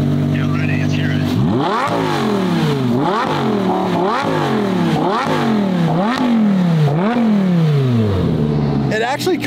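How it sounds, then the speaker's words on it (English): A Lamborghini Huracan engine with a sport exhaust revs hard several times in a row, each sharp rise and drop throaty through the loud exhaust, close by. "It actually comes with the sport exhaust, just like my car did."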